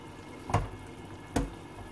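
Two glasses of water tipped into a cooking pot on a high flame, giving two brief splashing pours about a second apart over a low steady hiss.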